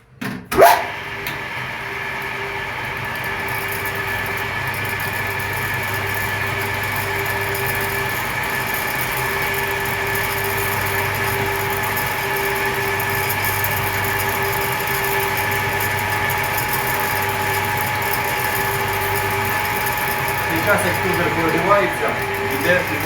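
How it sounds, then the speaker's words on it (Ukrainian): A screw extruder runs soybeans mixed with sand, a steady mechanical drone with a low hum and whining tones that starts abruptly with a clunk and continues evenly throughout, fairly close and moderately loud. "Включаємо екструдер і проганяємо сою по кругу."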